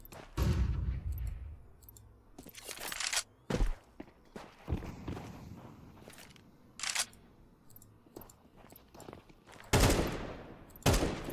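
Counter-Strike 2 gameplay with a flashbang grenade and gunfire: a run of sharp, loud bursts and bangs, the heaviest near the start and toward the end, with footsteps and quieter game noise between them and no talking.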